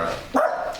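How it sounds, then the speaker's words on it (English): A dog on a farm gives a single short bark, close and fairly loud, followed by a brief trailing whine. "Stop barking at me."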